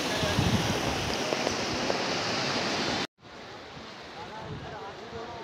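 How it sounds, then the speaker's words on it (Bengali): A fast, ice-cold river rushes below a bridge on a Haridwar–Rishikesh trip, making a loud, steady broadband roar with wind buffeting the microphone. A cut partway through briefly drops to silence before the roar continues. "ব্রিজের ওপরে দাঁড়িয়ে নদীর গর্জন শুনলাম।"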